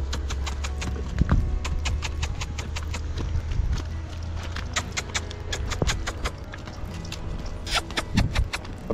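A horse being lunged in an arena trots steadily, its hooves striking in a quick, even rhythm of sharp clip-clops at close range, with occasional heavier thuds and no talk over it.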